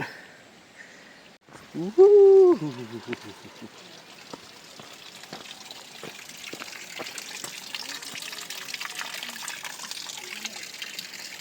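Steady running water rushes and trickles throughout on a mountain trail to Kataldhar Falls near Lonavala, with a brief voice near the start and scattered small clicks and taps over the flow.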